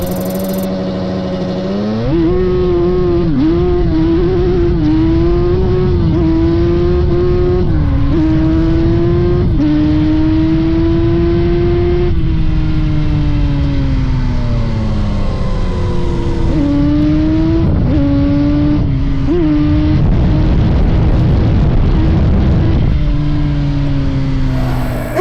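An ATV engine catches after about two seconds of quiet and keeps running loudly and close, with repeated revs whose pitch rises and falls throughout, sounding alone without voices.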